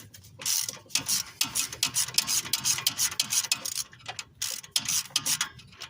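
A ratchet wrench clicks in rapid bursts while loosening intake manifold bolts on a 1995–96 GMC K1500 with the 5.7L engine, close up, with short pauses between strokes.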